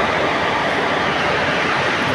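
A long-distance train running from Jammu Kashmir to Chennai roars past at close range, a loud, unbroken rush of wheels and wagons filling the whole moment without any speech.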